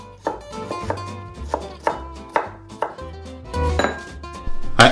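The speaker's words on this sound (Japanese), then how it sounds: "一回線に切ってから細かく切る。" Knife chopping vegetables on a cutting board, steady repeated thuds with a few louder knocks and a sharp clink at the end, close and clear with no talk.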